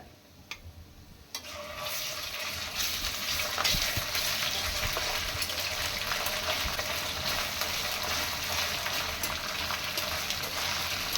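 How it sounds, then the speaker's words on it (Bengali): Ginger garlic paste fries in hot oil: after a couple of brief knocks, a loud, dense sizzle sets in and holds steady to the end. "আদা রসুন বাটা একটু একটু ভেজে নিব"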